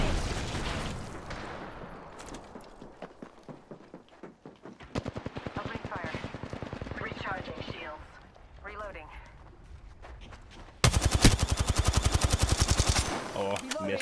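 Video game gunfire crackles in rapid automatic bursts and scattered single shots, loud and close, sometimes under voices calling out, and ends in a dense, sustained burst of fire.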